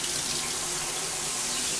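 Water pours steadily from a shower head, a loud, constant hiss and splash with no pauses and no voices.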